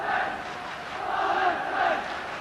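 A big football crowd at a night match roars and cheers in a sustained, swelling wave of massed voices, loud and continuous with rising surges.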